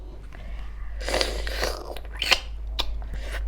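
Someone bites and chews spicy papaya salad with blood cockles and Vietnamese pork sausage, producing close crunching, wet chewing and scraping sounds in irregular bursts over a steady low hum.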